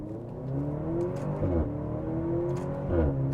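A 2023 Maserati Grecale luxury SUV accelerating hard in manual mode with brake boost off, its engine note climbing steadily through a gear change, loud and close from inside the cabin with no talk.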